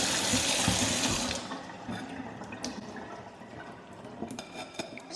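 Tap water runs loudly and steadily into a sink while salted cucumbers are rinsed and drained for cucumber kimchi, then eases off into quieter trickling and splashing with a few clinks of handling.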